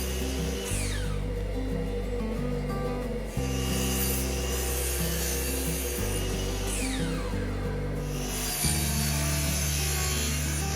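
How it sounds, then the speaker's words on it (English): A miter saw crosscuts plywood shelves to final length in a workshop, the motor droning loudly and steadily with several blade spin-ups and cuts in close succession, no voices. "I now head to the miter station to cut the shelves to their final length."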